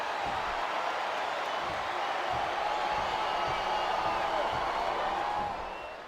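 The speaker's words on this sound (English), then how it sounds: "I cannot remember the last time I've seen a crowd this pumped up" Wrestling arena crowd cheering in the video game WWE SmackDown! vs Raw during a Street Fight at WrestleMania 23, a dense, sustained roar of excited fans that holds steady and then fades slightly at the end.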